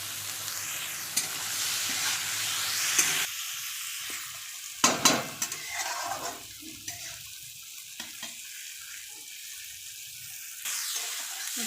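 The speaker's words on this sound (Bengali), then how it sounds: "ভালো করে আমি লঙ্কাটা আর টমেটোটা ভেজে নিয়েছি আলুর সঙ্গে" Chilli paste, tomato and potato fry in a pan with turmeric and salt, giving a sizzle that comes in bursts with stirring scrapes, drops away to quieter patches, then swells again near the end.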